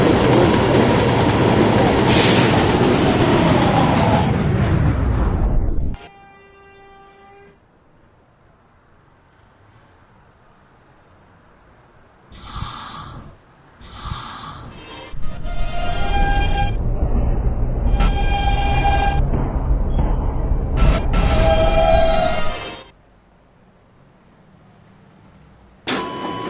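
A K train running on rails, a loud rumbling ride that cuts off abruptly, followed by quieter stretches with door chimes, tones and renewed rolling noise.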